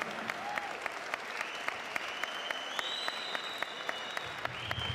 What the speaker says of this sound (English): big round of applause to both fighters for a fantastic main event